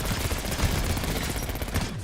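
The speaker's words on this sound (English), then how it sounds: "Tossing frag." Frag grenade explosion in Call of Duty, heard as a dense burst of rumbling blasts and crackling debris that fills the whole moment, loud and close, with no talking.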